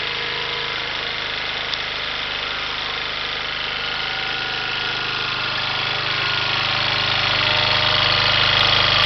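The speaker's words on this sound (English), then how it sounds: "how to start the gasifier and how to start my generator" Generator running on wood gas from a gasifier, a loud close steady engine drone with a knocking, vibrating rattle that grows slightly stronger toward the end, with no talking.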